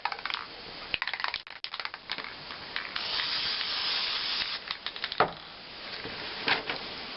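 Black spray paint hisses from a can onto a template, long steady bursts of spray broken by a few clicks and taps.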